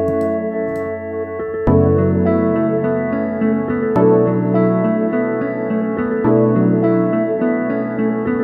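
Sustained synth chords swell and hold in layered tones, changing every couple of seconds, loud and smooth with no talking.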